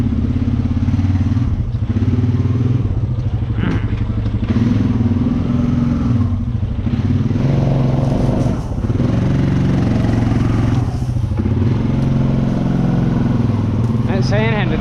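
An engine on a mud-riding vehicle in a sandy creek revs continuously and loudly as it backs up with spinning tires, a rough rumbling drone with surging throttle and rattles, someone talking over it.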